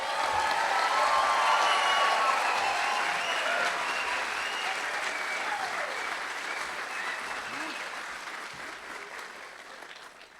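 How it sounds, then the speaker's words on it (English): A large audience at a university graduate hooding and commencement ceremony applauds steadily, a dense wash of clapping that slowly tapers off, heard from within the hall. "I think we should give one last round of applause for our graduating CWU graduate students for 2022"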